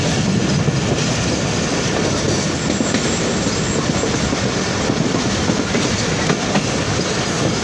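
The Rahman Baba Express passenger train, running from Rohri to Karachi in Pakistan as it nears Mehrabpur station, gives a loud, constant rumble with rattling wheel clatter throughout.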